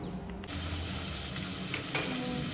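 Onion and tomato tempering sizzles in hot oil for a green masala chicken dish. The frying is close and continuous, and it grows louder and denser after a brief quieter start.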